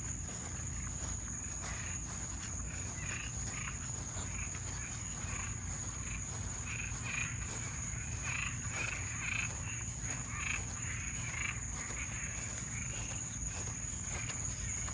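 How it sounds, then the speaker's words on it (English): Cuban tree frogs calling outdoors among trees, a dense continuous chorus of croaks with insect chirring and a steady high buzz throughout, moderately distant and fairly quiet. "Here are the Cuban tree frogs."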